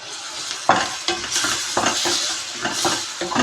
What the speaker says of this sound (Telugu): ఆనియన్ అన్నది కొంచెము లైట్గా గోల్డెన్ బ్రౌన్ కలర్ వచ్చే వరకు ఈ విధంగా ఫ్రై చేసుకోవాలన్నమాట